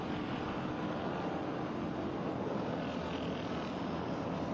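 A propeller airplane drones steadily overhead near an airport beside a racetrack on a former military base, a constant broadband engine rumble that stays even and moderately distant throughout with no talk.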